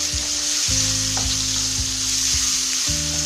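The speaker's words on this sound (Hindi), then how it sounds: "अब इसमें मैं ये टमाटर शामिल करूंगी, इसको मिक्स करूंगी" Tomatoes go into chicken frying in a pan for chicken shimla mirch, with a loud, steady sizzle and a few stirring scrapes over a constant background hum, no talking.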